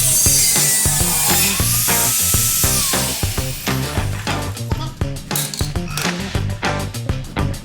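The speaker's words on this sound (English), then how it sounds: "I'm gonna need another cutting disc." A cutting disc bites through a bracket on a Jeep CJ5, starting as a harsh continuous hiss of grinding metal and then breaking into choppy bursts of cutting, loud and close, with no talking.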